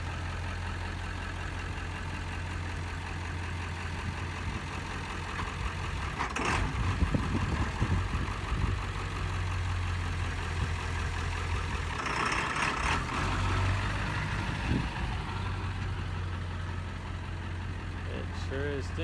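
A Ford F250 with a 7.3L diesel engine idles in a steady low rumble, and people talk over it.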